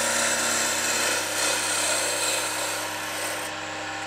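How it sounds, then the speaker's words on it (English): Wood gouge cutting into a spinning workpiece on a lathe for an angel and bell ornament, a continuous close rasping hiss over a steady motor hum, easing slightly near the end. "I'm cutting in the center of the base of the gouge"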